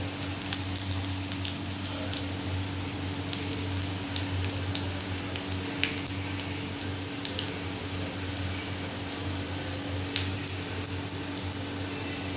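Dense, crackling sizzle of whole cumin seeds frying in hot oil, steady and close throughout, with a couple of sharper pops; no voices.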